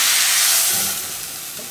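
Courgettes searing lightly in olive oil in a pan give a steady, bright sizzling hiss that fades a little toward the end, with no talking.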